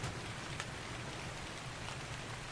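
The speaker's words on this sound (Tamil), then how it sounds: "இன்னொன்று மழை பெய்யுது காய்ஸ்" Steady rainfall in the video game ARK Ascended hisses as a dense, even wash of drops, loud and continuous with no talking.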